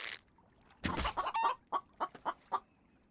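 A video game chicken clucks in a quick series of short, sharp, near clucks with small gaps between them, following a brief burst of noise, over a quiet background.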